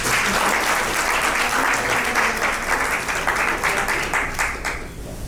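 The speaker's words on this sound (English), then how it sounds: "If you are a nurse here today, a round of applause for yourself." A crowd of nurses at an alumni anniversary gathering bursts into sustained applause, many hands clapping loudly and evenly before fading near the end, with no talk over it.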